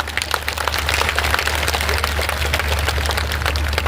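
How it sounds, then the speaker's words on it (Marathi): A crowd claps steadily at a political election rally for an independent candidate, a dense, even wash of applause lasting several seconds with a low hum beneath it. "सगळ्यांनी जोरदार टाळ्या वाजवा"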